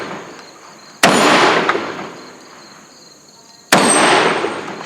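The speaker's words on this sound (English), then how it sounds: "he just chose to spin the spinner with the shotgun" Two loud, close shotgun blasts fired on a shooting competition stage at a spinner target, spaced about three seconds apart, each with a sharp crack and a long echoing decay.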